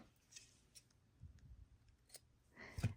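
Scissors snip through fabric while sewing a dolman wrap top, a short sharp cut near the end after quiet handling rustles.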